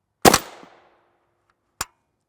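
A 5.7 round with a Hornady Black VMAX load fired during an armor test, one sharp, loud shot with a short decaying echo, then a faint second impact about a second and a half later.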